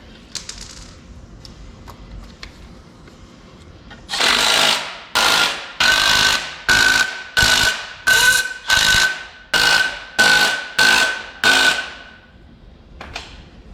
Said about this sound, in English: I'm just gonna hammer them on there